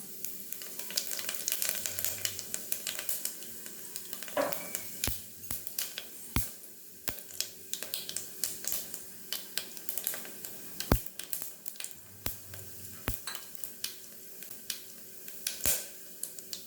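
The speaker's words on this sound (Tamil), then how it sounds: "நெய் நல்லா சூடாயிடுச்சு. இப்போ பிரியாணி இலை, கல்பாசி, ஏலக்காய், சோம்பு, ஜாதிக்காய் இதெல்லாம் ஆட் பண்ணிக்கலாம்." Whole spices, including bay leaf, stone flower, cardamom, fennel and nutmeg, sizzle and fry in hot ghee for a chicken biryani, with a steady close crackle, scattered sharp pops and clicks, and occasional stirring scrapes.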